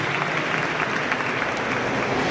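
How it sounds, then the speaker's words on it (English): Applause from a graduation audience at a dental sciences college ceremony, a dense, steady wash of many hands clapping throughout, fairly loud with no talk over it. "Have a big applause to the graduates and Dr. Varsha."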